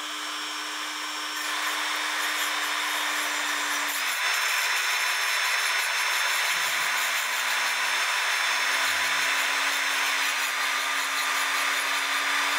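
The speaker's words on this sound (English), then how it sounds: "So I have my Dremel. I have a piece of" A Dremel rotary tool with a grinding stone tapers a small clock pin, making a continuous, loud, hissing grind that stays close and steady throughout, with no talking.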